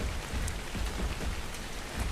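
Steady rain pattering down in the survival video game Ark Survival Evolved, a dense continuous hiss of drops with a low rumbling undertone, even and loud throughout with no speech.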